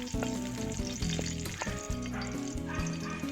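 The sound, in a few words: crushed unpeeled garlic frying in pan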